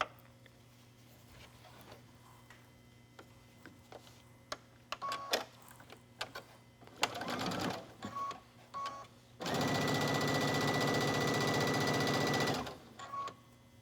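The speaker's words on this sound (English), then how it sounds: "Go ahead and sew the seam in a color that matches the fabric." A sewing machine stitches a seam on a top in matching thread, running in a steady loud whir for about three seconds after scattered clicks and handling noises, with a brief shorter burst of stitching before it.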